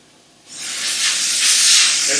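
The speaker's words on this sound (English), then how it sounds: "go over and decompress the chamber. It takes about 45 seconds. It gets a little bit loud." A valve releasing pressure from a decompression chamber lets out a loud, steady rush of hissing air that starts abruptly and keeps going, close up and uninterrupted.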